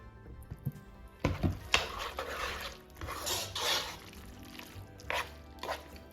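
Pasta sauce gets stirred into noodles in a pot, giving soft, wet squelching and scraping with light clinks from the utensil. The sounds are faint and intermittent, and nobody speaks.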